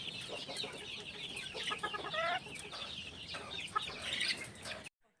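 Gamefowl on a game farm cluck and chatter close by in quick, irregular bursts, with a few sharper calls rising over a quiet farmyard before the sound cuts off abruptly.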